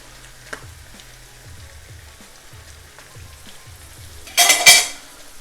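Chicken liver frying in a pan with carrot and onion, a quiet low crackle throughout, then a loud burst of sizzling stirring near the end.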